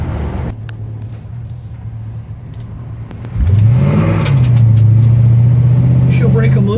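A 1964 Chevelle convertible's engine steady at first, then surging loudly into a rising, revving acceleration in passing gear about halfway through, close and sustained to the end.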